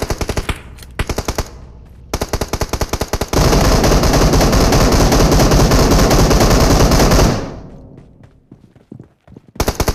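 Groza assault rifle fire in PUBG Mobile comes as rapid automatic bursts, short volleys first, then one long sustained stream that cuts off and trails into a few scattered shots.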